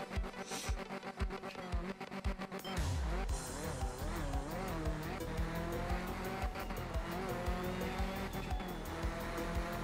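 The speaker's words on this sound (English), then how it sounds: "It is skipping a beat as I go to change gear." Race car in a racing video game with a damaged gearbox that skips on gear changes, heard as a loud, steady engine drone with repeated rhythmic stutters and tire squeal.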